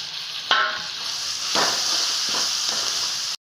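Tomatoes sauté with salt in a hot pan for potato rice, giving a steady close sizzle and hiss, broken by a few sharp utensil knocks as the mixture is stirred.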